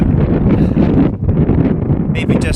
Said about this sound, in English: hopefully you can hear me in this wind